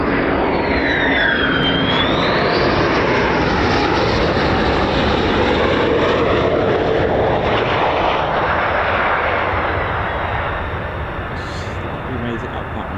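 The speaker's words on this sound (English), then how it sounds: "Aero braking, just using that undercarriage to create drag and just slow the aircraft down" An F-15 or F-35 fighter jet lands at RAF Lakenheath and aerobrakes, its loud engine roar sweeping past close by before slowly fading.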